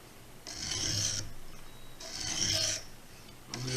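Knife blade drawn across a stone in a Lansky sharpening system, three separate rasping strokes about a second long each, close and fairly loud with short pauses between them.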